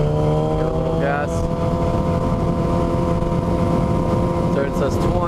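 A motorcycle engine holds a steady, loud whine through a turn, its pitch wavering slightly as the throttle eases on, with wind rush over it and a voice talking briefly.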